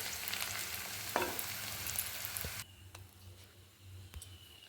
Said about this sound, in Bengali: এই কড়াইতে লঙ্কা ভাজা করে রেখে দিলাম